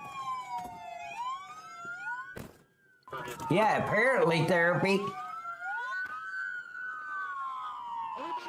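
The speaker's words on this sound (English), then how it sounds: "Everybody, cue your sirens." Police car sirens wail and sweep through a high-speed pursuit, rising and falling loudly with a brief gap before a dense burst of overlapping tones; people talk over them.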